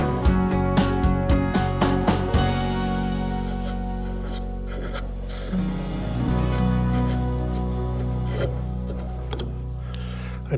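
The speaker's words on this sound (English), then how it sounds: "I'm going to take a little bit here with my knife, and I'm going to work this down" Rhythmic scraping and rasping strokes of a knife carving wood on a rocking horse, steady and close, with a low tonal hum underneath.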